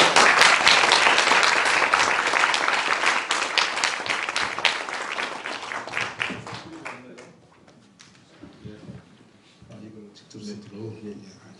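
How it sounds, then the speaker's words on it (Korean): An audience in a church lecture setting applauds: dense, loud clapping for about six seconds that thins into scattered claps and fades, with a voice speaking as the clapping dies away. "우리 모실 때 큰 박수로 환영해 드리겠습니다"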